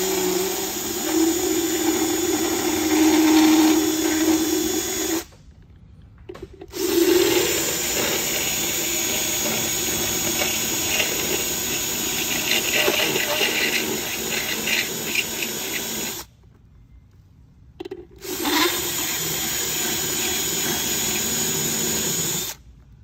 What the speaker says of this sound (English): I've just got a grinding bit on a drill, and the projector is aluminum